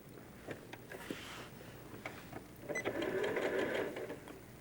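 Sewing machine stitching quilt strips together for a quarter-circle quilt block, a steady mechanical whir that runs in short bursts and then a longer, louder run near the end, close and fairly quiet with no talking.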